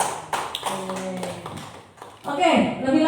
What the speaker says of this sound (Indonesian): Tepuk tangan buat Pak Is